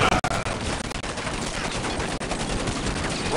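Dense, continuous rifle gunfire from the video game Command and Conquer 3, loud rapid bursts that overlap into a steady barrage throughout.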